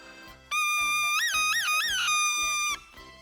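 A bright, buzzy Asturian bagpipe reed sounds alone in one sustained high note, wavering briefly in pitch a few times before stopping after about two seconds.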